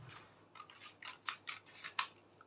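Scissors snip through a paper sewing pattern for a bustier with yoke, a string of short, crisp cutting strokes close by and fairly quiet, with no talking.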